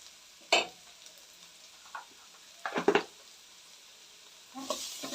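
Onions fry with salt in a pan for capsicum rice, a faint sizzle broken by a few sharp stirring scrapes and spatula knocks against the metal.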